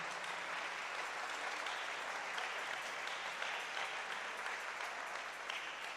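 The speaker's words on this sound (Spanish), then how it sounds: "Si le va a dar una ofrenda de palmas al Rey," A congregation's sustained applause, offered as praise to God during a church service, fills the room as a steady, dense wash of clapping without voices on top.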